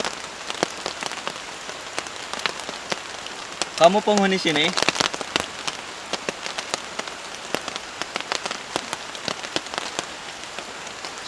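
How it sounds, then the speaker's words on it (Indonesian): Heavy rain pouring in a forest at night during solo camping, a dense steady hiss with many sharp drop impacts close by, while a voice speaks briefly partway through. "ini kedengaran paling kencangnya itu hujan teman-teman"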